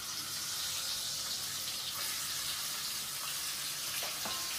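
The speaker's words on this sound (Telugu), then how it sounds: "ఇప్పుడు 2 సైడ్లో కొంచెం ఫ్రై చేసుకుందాం." Eggs frying in a pan on the stove, a continuous hiss of sizzling oil at low level, with a few faint clinks and no talking.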